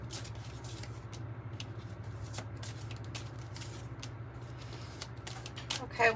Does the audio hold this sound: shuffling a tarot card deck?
yes